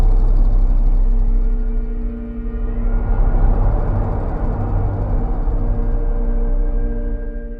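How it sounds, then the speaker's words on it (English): A vintage truck engine rumbles at a steady, loud low pitch in a film scene, holding a continuous idling drone with a slight dip midway. "as implied from the vintage truck engine sounds"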